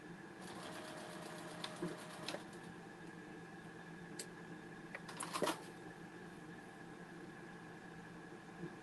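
Sewing machine stitching a fabric memory bear, a quiet steady run of stitching with a few brief louder clicks and bumps partway through.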